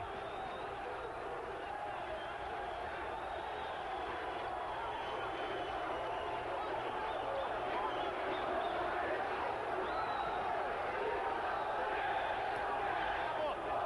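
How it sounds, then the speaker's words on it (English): A crowd at a Gracie jiu-jitsu fight chants in unison, a dense, sustained wash of many voices heard at a distance, steady and fairly faint throughout. "As the crowd chants the seconds away"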